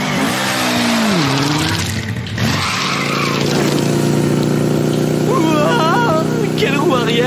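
A cartoon vehicle revs hard while pulling a wheelie, the engine whining and rising in pitch under loud music and effects, with voices briefly heard over it.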